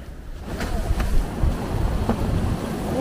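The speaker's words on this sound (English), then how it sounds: "Oh, it's very windy." Strong wind gusts blowing outdoors across a snowy landscape, a steady broadband rush with buffeting swells, loud and close against the microphone, with no talking.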